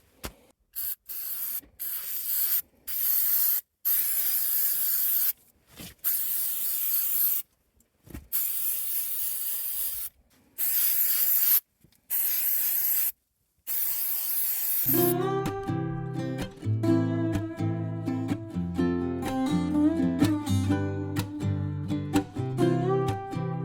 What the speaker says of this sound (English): We'll spray a little bit inside with this straw.